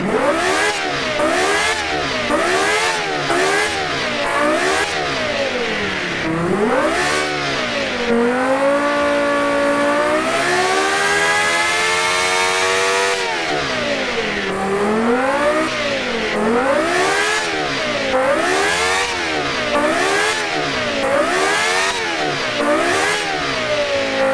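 A 1.66-liter naturally aspirated V10 Formula One engine fitted to a minivan in the BeamNG Drive game, revving loudly in repeated rising and falling sweeps, with one long climb to a high scream in the middle and no talking.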